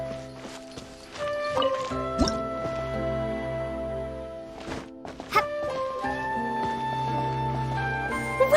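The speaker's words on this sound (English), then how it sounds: "Another water droplet just came out from the wall!" Water droplets drip from a wall in Genshin Impact, several crisp plinks falling irregularly over sustained tonal game music.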